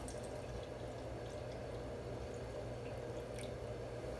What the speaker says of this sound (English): I'm going to go ahead and pour in some hot water out of the sink till it's about halfway